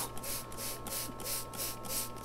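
A spray bottle misting a rock and plant pot gives a quick run of short, crisp hissing bursts at an even rhythm, close and moderately loud.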